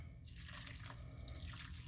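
A dissolved lye and silk solution for soap making is poured over hard oils, making a brief, steady close-up splash and trickle of liquid.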